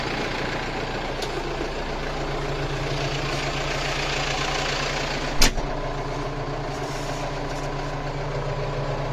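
A tractor engine runs steadily with a loud, continuous diesel rumble while pulling a cultivator on autopilot, and there is a single sharp knock partway through.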